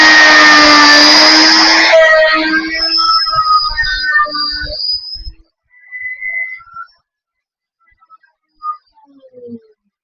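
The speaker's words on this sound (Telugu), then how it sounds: "ఒకసారి చూడండి ఎలా వస్తుంది ఆఫ్ రౌండ్ మిషన్ తోటి." A half round edge finishing machine grinds a rounded profile onto a sharp edge, a loud steady whine for about two seconds, then rougher intermittent grinding that tapers into short scattered scrapes and silence.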